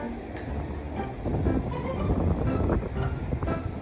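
Steady sea breeze buffeting at a beach, a broad low rumble with gusty swells, with water or waves faintly beneath.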